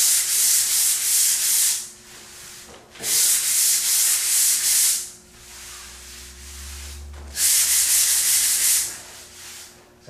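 Hand paddle sander scraping over drywall mud on a wall, three long bursts of loud abrasive rubbing separated by short pauses, close and with no talk.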